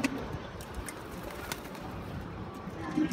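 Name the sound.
racing pigeons cooing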